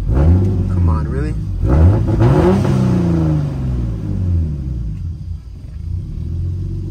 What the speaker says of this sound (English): All right, I'm gonna try and rev it.